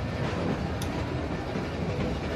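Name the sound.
train running, from a video game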